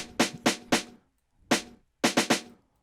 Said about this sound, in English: This is the snare.